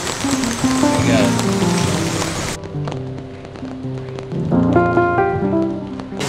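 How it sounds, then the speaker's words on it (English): Steady rain falls on an outdoor cooking spot at Coffee Bay on a cold day, a broad hiss that drops away midway while tonal voices or music carry on over it. "We stand in the rain, in the cold."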